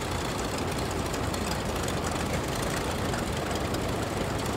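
A 1919 Case cross-motor tractor with a four-cylinder engine mounted crosswise runs at a thresheree show, giving a steady, close, chugging engine drone that stays even throughout with no speech.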